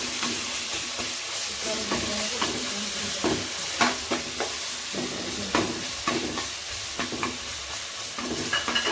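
Asafoetida, curry leaves and ginger-garlic paste sizzle loudly in hot oil, a dense continuous frying hiss broken by repeated scraping stirs of a spoon in the pan.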